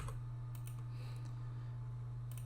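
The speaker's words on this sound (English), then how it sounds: "I'm just going to manually type" Typing on a computer keyboard: a handful of faint, scattered keystrokes over a constant low electrical hum.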